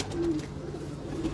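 Shahsira pigeons coo close by in a loft, a couple of soft low rolling calls over a quiet steady background.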